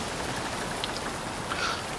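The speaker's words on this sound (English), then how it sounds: "For 40 days and 40 nights, the sound of rain continued overhead." Steady, heavy rain falls overhead in a dense, even patter with no voices, continuous and close throughout.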